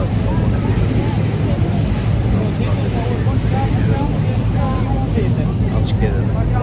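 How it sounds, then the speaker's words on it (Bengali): A tour boat heading out from Bergen city toward Modalen gives off a steady, close engine rumble mixed with buffeting wind, continuous and loud throughout. "আজকে আমি নৌকা ভ্রমণে বেরিয়েছি।"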